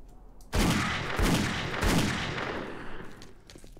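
Rapid gunfire from the zombie survival video game 7 Days to Die (Alpha 14) while fighting feral zombies, a loud burst of several close shots in quick succession followed by echoing tails, with no talk over it.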